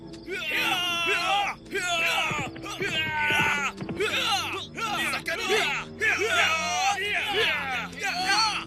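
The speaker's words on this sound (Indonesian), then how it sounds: "malam yang sunyi itu pun dipecahkan dengan teriakan keras" A large crowd roars and yells together in a loud, sustained battle cry, voices rising in repeated surging waves.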